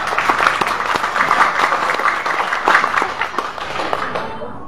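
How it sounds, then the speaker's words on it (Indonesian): Dense applause from a large crowd, steady and loud throughout, with many hands clapping at once and a slight tapering at the end. "Tepuk tangan."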